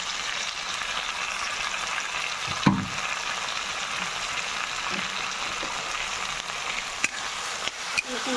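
Poppy seed paste masala stir-fried in a pan, with a steady close sizzle and frying hiss throughout and a few faint clinks and scrapes of a spoon against the pan.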